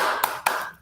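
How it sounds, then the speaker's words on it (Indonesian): A class doing a rhythmic spirit clap led by a teacher: two sharp, close hand claps spaced about a quarter second apart, over a brief vocal tone. "Tepuk semangat ya."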